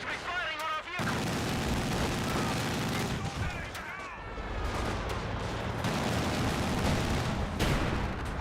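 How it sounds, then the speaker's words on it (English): Dense infantry gunfire in Company of Heroes 2 as troops shoot at a vehicle. Overlapping rifle and machine-gun bursts with heavy booming impacts go on without a break, mixed with game chatter. "Infantry firing on our vehicle."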